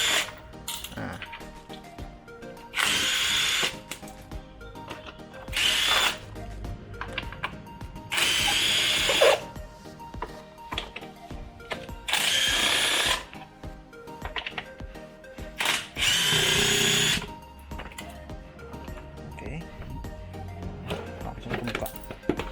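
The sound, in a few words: impact driver driving a screw at speed 2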